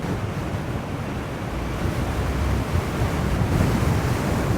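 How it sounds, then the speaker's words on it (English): Steady, loud wind roar buffets the microphone while cruising on an Extreme Bull GT Pro Plus electric unicycle, rising slightly in force toward the end with no talking. "Feels like I'm into the wind this way."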